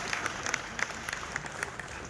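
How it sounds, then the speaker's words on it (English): An audience applauds at the closing ceremony of an athletics championship: steady, dense clapping that runs the whole time at moderate volume, with sharper individual claps poking out of the wash. "you can clap for them, yes?"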